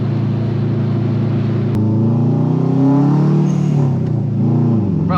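A 440-horsepower drift car engine roars loudly and continuously up close, its pitch swelling and rising mid-clip as it pulls, with no talking.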